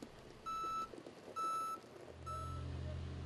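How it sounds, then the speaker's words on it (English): Backhoe loader backup alarm sounding three evenly spaced electronic beeps, fairly faint, with an engine rumble rising toward the end. "Even though the backup alarm is sounding, you still need to look behind you before and while backing up."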